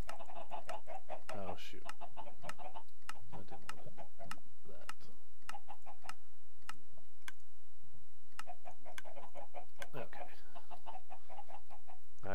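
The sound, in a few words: chickens clucking in Minecraft video game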